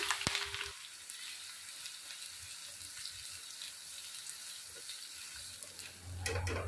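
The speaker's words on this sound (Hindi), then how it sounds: "3 मीडियम साइज के प्याज को लाइट ब्राउन करेंगे" Three medium onions sizzle in hot oil, browning lightly, with a constant soft crackle, a brief clatter at the start and a louder rumble near the end.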